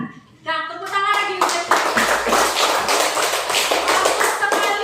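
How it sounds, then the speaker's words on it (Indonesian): Schoolchildren in a classroom break into clapping after a brief sung or spoken note, many small hands tapping in a lively, fairly loud, slightly uneven rhythm that continues to the end. "tepuk tangan lagi."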